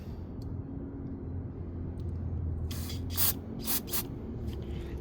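Carb cleaner sprayed through a straw into a Predator 212 engine: several short, close hissing bursts of varying length over a low engine-bay background, with no talk.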